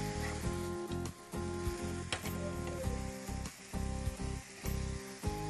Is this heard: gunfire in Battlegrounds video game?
no